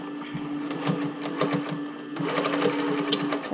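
A sewing machine runs a straight stitch along the band of a swim top, whirring steadily and up close with a fast needle rhythm that speeds up a little partway through.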